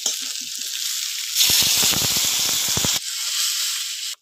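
Water poured into a pan of sizzling spices and chilli powder for a fish egg curry: a soft sizzle, then a sudden loud burst of hissing and crackling bubbling as the water hits, settling to a steady simmering hiss, no voices.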